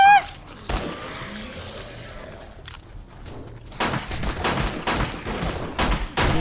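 Gunfire in the video game 7 Days to Die, with a single early shot followed by dense rapid bursts in the second half, loud and close, mixed with game noise.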